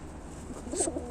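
A red Ukrainian high-flying pigeon coos once, a soft low burst late in the moment over a steady background hum.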